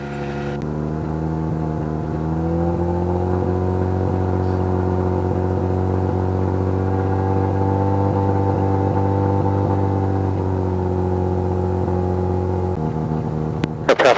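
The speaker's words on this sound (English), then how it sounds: "Next test will be when we go to run up the engine, see how the power builds." Mazda rotary aircraft engine running up on the ground, a steady loud harmonic drone that builds slightly in pitch and holds for most of the stretch before dropping back near the end, with no talk.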